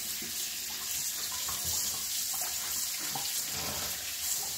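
Tap water runs steadily in a kitchen sink while dyed cotton yarn is rinsed, a continuous splashing flow with small sloshes and drips as the yarn is moved under the stream.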